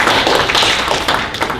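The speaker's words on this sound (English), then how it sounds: "So everyone give a round of applause to good guy Hector." An audience at an anime convention panel bursts into brief, close, energetic clapping, a dense patter of hands that keeps going for under two seconds.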